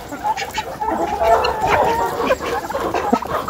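A sick chicken among others clucking and murmuring close by in a busy, continuous chatter, with faint background noise.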